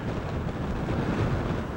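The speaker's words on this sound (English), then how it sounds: "A little bit windy here." Steady wind buffeting the microphone, a loud continuous rumbling roar with no voices.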